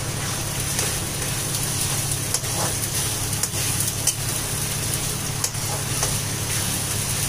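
Tomatoes are stirred into sizzling chicken gravy in a pan: a dense, steady sizzle with scattered scraping clicks from the stirring, close and alone without voices.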